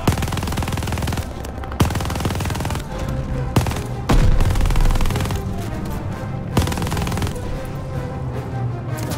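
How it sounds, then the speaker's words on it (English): A machine-gun turret fires in Call of Duty Vanguard, loud sustained automatic bursts with heavy booming impacts and brief gaps between volleys. "Oh, that's a turret."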